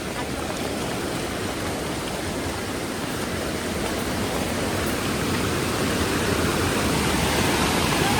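Red, muddy floodwater rushing down a swollen Konkan stream after heavy monsoon rain: a dense, steady, loud roar of flowing water fills the whole stretch without a break, with no clear talk over it.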